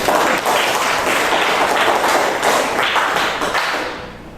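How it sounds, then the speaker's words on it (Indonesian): Applause from a classroom group after a student presentation, a dense, close burst of clapping that holds steady and tapers off near the end. "mari kita berikan tepuk tangan untuk kelompok"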